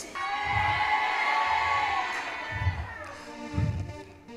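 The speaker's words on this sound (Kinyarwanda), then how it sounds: "Mukomere Imana amashyi mutananiwe" A church congregation claps and cheers, a broad sustained crowd roar with whoops and shouts rising and falling over several seconds, heard alongside a loud reverberant voice or music in the hall.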